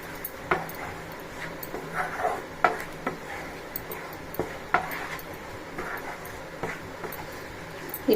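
Paneer and a ground paste being stirred together in a cooking pan for a spinach dish, giving a run of soft scraping and clacking strokes at an uneven rhythm over a faint sizzle, with no talking.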